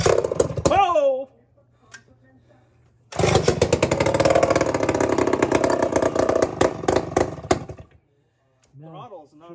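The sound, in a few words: Poulan S72 vintage chainsaw engine running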